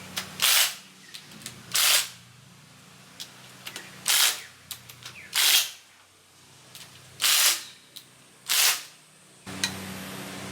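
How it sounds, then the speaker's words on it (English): Torque wrench clicks ring out while tightening the A bolts on a Toyota 1HZ diesel engine rebuild, a series of sharp bursts at irregular intervals with quiet gaps between. "these are called the A bolts. So these have to be torqued at 102 Newton meters of torque"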